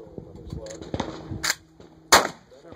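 Gunshots on a shooting competition stage, one sharp report near 1.5 s and a louder one just after 2 s, fired close by while a voice calls out instructions over the shots.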